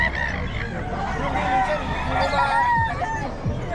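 Gamefowl roosters and chickens at a market in Bocaue crow and cluck loudly and close by, several birds overlapping in a continuous noisy chorus with faint voices beneath.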